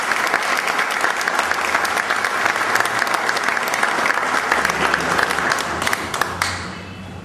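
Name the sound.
audience applause at a book presentation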